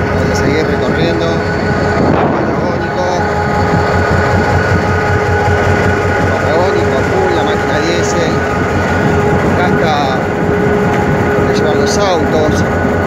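The Tren Patagónico passenger train stands at the cold, snowy Ingeniero Jacobacci station, giving off a loud, steady rumble and mechanical hum with occasional squeals and clanks. Chatter can be heard in the background.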